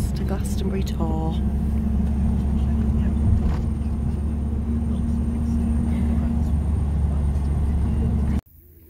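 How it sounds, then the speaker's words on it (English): Steady low engine rumble and road noise inside a moving bus heading to Glastonbury Tor in Somerset, continuous and fairly loud throughout, with brief voices early on. "On the bus to Glastonbury Tor."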